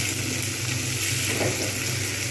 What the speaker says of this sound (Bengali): টমেটোটা দিয়ে দিয়ে একটু ভালো করে এটাকে ভাজবো